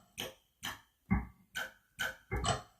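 Drum kit built from samples of a rock dropped in water plays a short beat of six separate hits, alternating deeper thumps and brighter splashy strikes at a steady pace.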